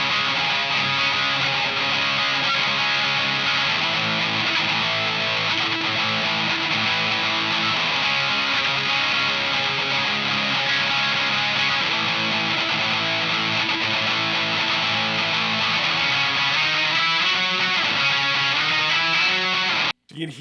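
Electric guitar driven through a Benson germanium preamp pedal at high gain with the treble raised, a dense, saturated distorted tone sustaining loudly and steadily for the whole stretch, alone, before cutting off abruptly at the end.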